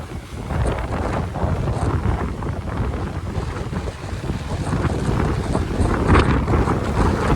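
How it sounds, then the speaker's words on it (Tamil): Strong wind buffets the microphone over a constant roar of rough sea on the coast at Jaffna, Sri Lanka, during heavy rain, with waves crashing and churning throughout. "இப்போ காற்று வந்து அதிகமாக அடிக்குது அதே நேரத்தில் கடல் அலைகளும் வந்து ஓவராக இருக்குது"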